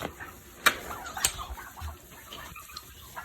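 A few soft young hen clucks and short calls in a barn break up a quiet backdrop, along with a couple of sharp clicks.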